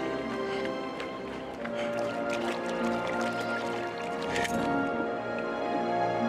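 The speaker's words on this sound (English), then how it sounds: "Refill your water skin." Liquid squishing and dripping as a water skin is refilled at a water source in the survival video game Conan Exiles, heard as a steady, close, wet texture over a dense game ambience and music bed.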